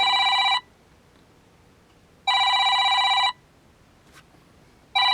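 A telephone rings in loud, evenly spaced electronic bursts: one ring ends at the start, a full ring follows, and another begins just as the sound cuts off, with near silence between.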